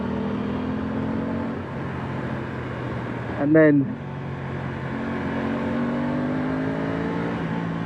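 A 2025 Aprilia Tuono 660 Factory motorcycle idles, then gives one short sharp rev that rises and falls within a second before settling back to a steady idle, with someone talking briefly.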